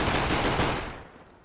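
Rapid automatic gunfire in the game CS GO, a loud dense burst that cuts off and fades into a short decaying tail.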